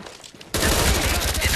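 Gunfire in the multiplayer video game Call of Duty Black Ops erupts after a quieter start, becoming a loud, dense, continuous burst of rapid shots that lasts to the end.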